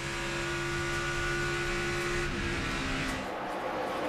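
NASCAR Nationwide Series stock cars race at Texas Motor Speedway during the 2010 O'Reilly 300, engines roaring steadily and loudly as a pack of cars passes close by, the drone holding through the whole stretch and fading slightly near the end.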